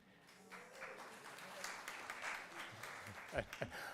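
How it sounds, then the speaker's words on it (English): Congregation applauding a buyout announcement at a gathering, a soft, steady patter of clapping building slightly, with a voice coming in near the end. "I take that applause as a very positive response."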